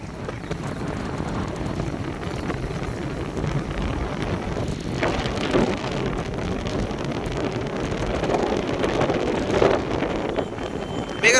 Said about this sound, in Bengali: কি ঢেউ দেখেন বন্ধুরা ঢেউটা দেখেন বাপরে পানির যে কি জোর